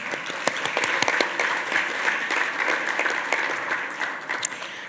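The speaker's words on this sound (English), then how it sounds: "please give yourselves a round of applause" At a civic forum, the audience of nonprofit donors and sponsors applauds, a sustained, fairly even wash of clapping at moderate volume with a few sharper individual claps standing out.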